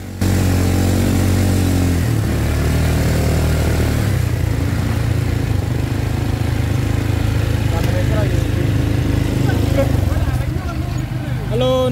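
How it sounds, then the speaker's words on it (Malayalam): An ATV engine on a ride in Phuket, Thailand, runs loud and steady up close with a continuous rumbling drone, and a person talks over it. "അങ്ങനെ നമ്മളെ ATV റൈഡ് ഇവിടെ കംപ്ലീറ്റ് ആകാൻ പോകുന്നതാണ്."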